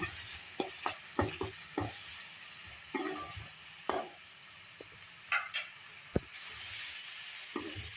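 Turmeric-coated ingredients being sautéed in a pan for spicy Maggi noodles, a steady sizzle broken by irregular scrapes and knocks of a spatula stirring against the metal, up close with no talking.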